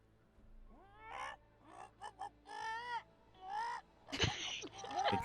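A woman imitates bird calls with a string of short, rising and falling whistled and cawing vocal bursts, fairly close, followed by a louder, harsher rustling and squawking burst near the end.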